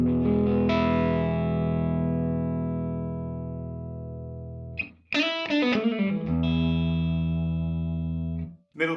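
A Les Paul electric guitar on its neck pickup, played through the clean channel of a DSL-20 amp with no effects, rings out with a long sustained chord followed by a quick run of picked notes, close and solo.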